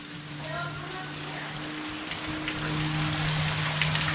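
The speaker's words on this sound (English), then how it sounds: "There's just massive rain everywhere." Heavy rain from a rainstorm in Washington pours steadily and loudly onto surfaces nearby, a dense hiss with a low hum running underneath.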